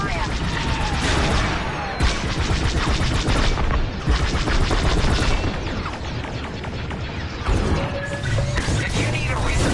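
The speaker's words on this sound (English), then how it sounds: "I'm under fire!" Video game gunfire and crashing impacts on PS4 fill the scene in a dense, continuous barrage with bursts around two, four and seven seconds, loud and close, with game voices talking over the shooting.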